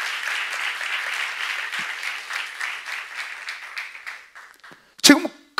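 A church congregation applauds steadily for several seconds at a Korean Bible-study service, the clapping fading toward the end before a short loud burst of other sound.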